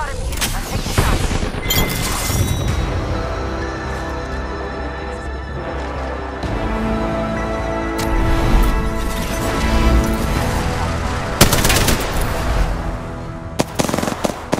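Apex Legends gunfire, repeated loud shots and explosive bangs scattered through a busy fight with music-like tones underneath, sharp bursts clustering near the start and end.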